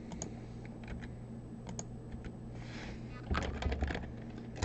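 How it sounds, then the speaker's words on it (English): Keys clatter on a computer keyboard while code is entered during a coding lesson, a quiet run of irregular clicks that gets busier and louder toward the end, with no talking. "Actually, I'm just going to type this."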